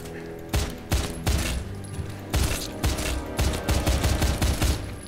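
Rapid bursts of gunfire from the video game Wanted, several clustered volleys of loud, sharp shots repeating across the clip over a steady background.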